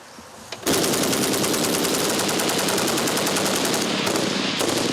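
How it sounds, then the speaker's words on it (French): Belgian-made rifles fire rapidly at a shooting demonstration, a loud continuous burst of automatic gunfire beginning abruptly after a brief quieter lead-in and sustained for several seconds. "Ils vont tirer près de 1000 cartouches en moins de 2 minutes."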